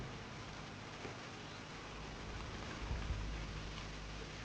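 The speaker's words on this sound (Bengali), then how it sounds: "শুধু বৃষ্টি আর বৃষ্টি, এক মাস ধরে হয়েই যাচ্ছে।" Rain falls steadily outdoors on a wet day, a soft, even hiss of drops with faint low rumbles underneath, quiet and unbroken throughout.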